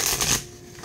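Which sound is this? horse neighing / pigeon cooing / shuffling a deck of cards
shuffling a deck of cards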